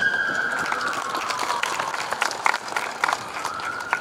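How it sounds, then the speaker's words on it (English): Crowd applause at a fitness court grand opening in Lincoln Park: steady, dense clapping fills about four seconds at moderate loudness, with a faint sustained tone running beneath it. "Again, round of applause again for Asad Turfi."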